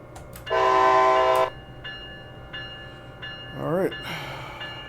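A train in the Train Sim World game on the Northeast Corridor sounds one loud, sustained horn blast of about a second. Quieter mechanical tones, a brief wavering whistle-like sound and low running rumble follow.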